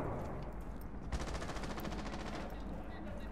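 Automatic gunfire from a Rainbow Six Siege match, a dense burst of rapid shots starting abruptly partway through and rattling on for over a second before easing off under steady in-game background noise.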